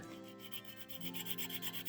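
Soft, rapid rasping strokes of sanding on a small hard miniature model mug, faint and close, with no talking.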